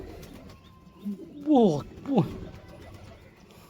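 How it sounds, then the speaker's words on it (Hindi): A large male pigeon lets out two short, descending cooing calls close by, the first longer and louder, over a quiet background with a person speaking briefly nearby. "ये बहुत बड़ी आवाज इसकी थी। बहुत बड़े कबूतर, बहुत बड़े साइज में है"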